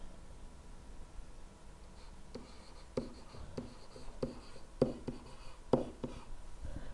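Marker or chalk strokes on a board while a math problem is worked out, a series of short scratchy strokes that grows more distinct toward the end, close and fairly quiet, with no talking.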